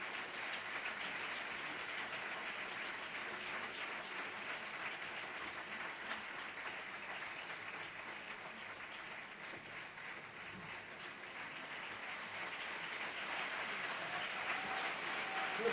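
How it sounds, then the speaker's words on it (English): Steady applause from a conference audience at a 50th anniversary event, many hands clapping in a continuous wash heard from a distance, quiet and even with a slight swell toward the end. "this round of applause is for Bruno Rocchi"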